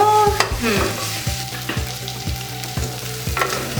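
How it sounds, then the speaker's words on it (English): Ginger and garlic paste frying in a pan with boiled beef, a steady loud sizzle punctuated by regular stirring knocks of a spoon against the pot. "I've added my ginger and garlic paste to cook at this stage."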